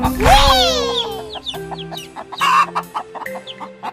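A hen gives a rising squawk, then a run of short, quick clucks over a steady tonal backing from a French children's song, fairly close and clear.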